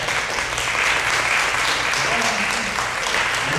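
Audience applause breaks out at a public advocacy event honoring a Hawaii state senator, a steady, dense wash of clapping that holds at an even level for several seconds.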